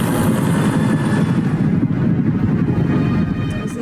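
A cartoon helicopter drones steadily with a dense, rapid rotor chop, loud and close throughout.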